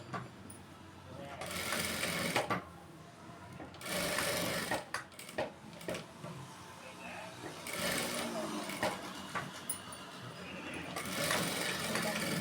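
A sewing machine stitches a blouse in several loud whirring bursts of a few seconds each, separated by pauses where a person talks.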